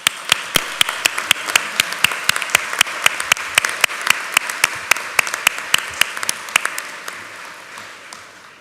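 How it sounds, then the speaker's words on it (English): A small audience at a school district board meeting claps for students, a sparse, sharp, rhythmic run of individual claps, fairly close and steady, thinning out and fading over the last second or two. "let's give a round of applause for all of our students."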